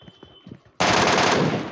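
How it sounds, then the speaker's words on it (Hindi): Automatic gunfire in PUBG Mobile on the Erangel map, a dense loud burst of rapid shots that bursts in suddenly after a quieter stretch and runs to the end without a break. "ये तो मेरा गलती से फायर हो जाता है इधर"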